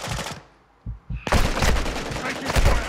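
Dense automatic gunfire in a Call of Duty Modern Warfare II DMZ match, loud rapid bursts after a brief quieter lull with a few isolated shots, voices faintly mixed in.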